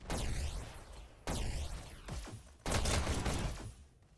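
Gunfire in a competitive shooter video game during a quarterfinal esports match: three loud, close bursts of rapid shots, each cut off sharply before the next begins.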